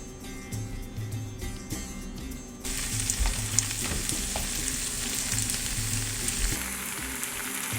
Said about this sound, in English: Add a little bit of oil to our pan and fry raisins and dates individually.